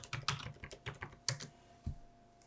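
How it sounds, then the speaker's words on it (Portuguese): A password being typed on a computer keyboard to log into a Raspberry Pi, a quick close burst of irregular keystrokes with clicks trailing off into quiet. "Aqui nós vamos logar como pai e vamos digitar senha."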